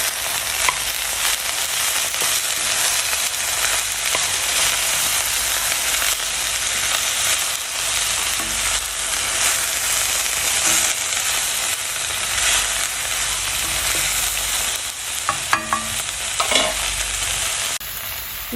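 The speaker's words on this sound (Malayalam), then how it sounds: "ഇത്രയും ചേർത്തിട്ട് ഒന്ന് നന്നായിട്ട് ഇളക്കുക" Flat beans (kothamara) with pepper powder and salt being stirred in a frying pan, a steady close sizzle with soft scraping and tossing noises from the spoon, a few sharper clinks near the end.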